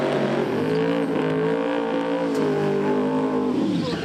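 A Bentley and a Nissan GTR drag racing at a Street Eliminator event: loud, steady engine roar with rising harmonic tones as the cars accelerate, continuous and close throughout.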